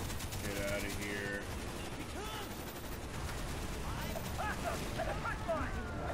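Enemy gunfire in Call of Duty: Black Ops, set in Vietnam, rattles in repeated bursts and volleys amid battlefield noise, with someone talking over it.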